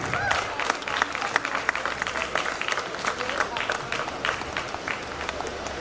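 Audience applause at a golden jubilee celebration at S.V. University, a fairly quiet, steady patter of clapping from a seated crowd that lasts throughout.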